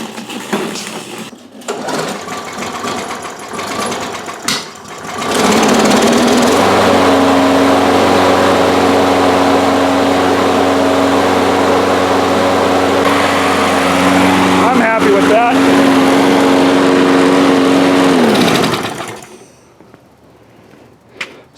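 A primed walk-behind lawn mower with a fault that makes it start and then die: a few pulls on the starter, then the small engine catches and runs steadily and loud for about thirteen seconds before it cuts out and stops.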